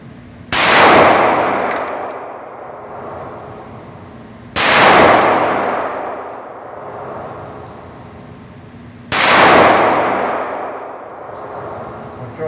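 Three loud Glock 19 9mm handgun shots fire at indoor range intervals of about four seconds, each a sharp crack with a long ringing decay.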